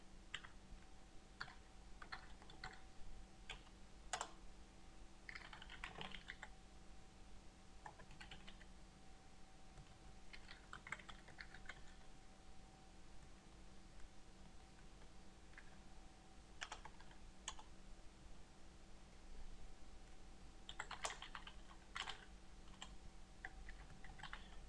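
Code is typed for a C# WebDriver test on a computer keyboard, soft irregular key clicks in bursts and pauses over a faint steady hum, with no speech.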